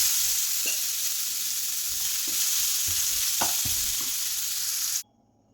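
Grated radish (mooli) and its leaves for thoran stir-frying in a hot pan, a steady close sizzle with scattered scraping stirs throughout, cutting off abruptly near the end.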